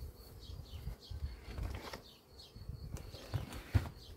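Honeybees drone steadily around an opened hive while a beekeeper inspects frames of a new swarm, a low continuous buzz with scattered wingbeat flutters and small knocks, fairly close throughout.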